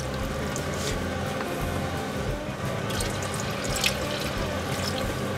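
Water pours steadily into a pot for a chicken, rice, pineapple, mango and coconut curry one-pot dish, a continuous close splashing rush with no talk.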